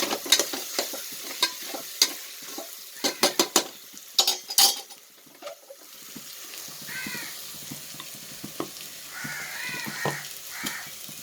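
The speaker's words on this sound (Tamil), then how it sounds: "கொஞ்சம் வதங்கினோன்னா தக்காளி சேர்த்து வதக்கிடலாம்" Onions and tomato sautéing in a pan for tomato biryani, with clinks of a spoon and stirring in the first half, then a soft steady sizzle with faint scraping toward the end.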